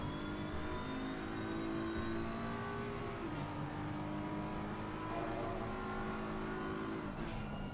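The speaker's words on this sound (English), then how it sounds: "Nice power on, no slip in there from the car at all." A GT3 race car powers out of a corner at Donington Park, its engine note climbing through the gears with brief shift dips, loud and sustained for several seconds with no talk over it.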